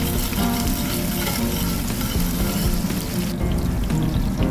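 Chopped garlic and sliced onion sizzle steadily in hot cooking oil for chicken kabsa, a loud continuous frying hiss with crackles and stirring scrapes that sound close.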